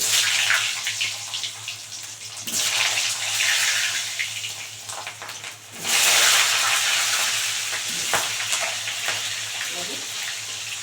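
Potatoes drop into hot oil already seasoned with cumin seeds and a bay leaf, giving a loud hissing sizzle that surges and fades in waves close by.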